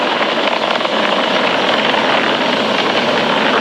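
Falcon 9 rocket engines roaring during ascent, a loud, broad, unbroken rumbling roar filling the short stretch with no pauses or talk.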